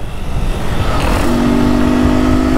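A Honda Fan 160 motorcycle accelerates close by, its engine a loud steady drone that climbs in pitch partway through and holds, with no talking over it.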